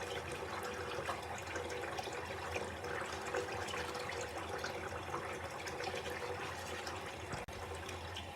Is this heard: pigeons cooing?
no